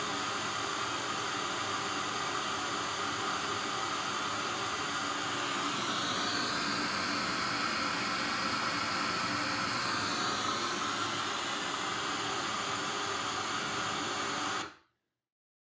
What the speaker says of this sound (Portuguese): Eu vou liberar de novo aqui o ruído rosa.